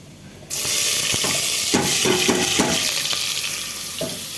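Potatoes frying in a pot as onion is added, a sudden loud sizzling hiss that stays steady throughout, with occasional clinks and scraping of a utensil against the pot.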